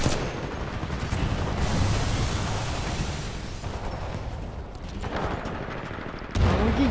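Dense, continuous gunfire and heavy weapon blasts from Titanfall 2 combat, with rapid overlapping shots and booming impacts throughout, plus a sharper close burst near the end.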